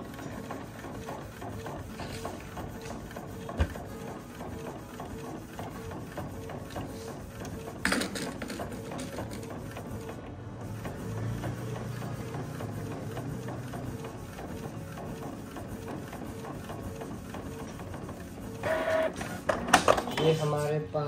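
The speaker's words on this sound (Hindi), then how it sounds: "बैक साइड की कमांड देते ही प्रिंट बैक साइड प्रिंट करने लगेगा।" A card printer prints the back side of a PVC card, running with a steady mechanical whir and feed noises throughout, with a voice talking over it.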